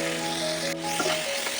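Chopped vegetables, chillies and capsicum for poha sizzle steadily in a pan, a continuous close frying hiss with faint stirring scrapes and no talking.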